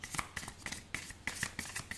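Sticky tarot cards being shuffled by hand, giving a string of short, crisp riffling bursts at a fairly steady rhythm, close and moderately loud, with no talking.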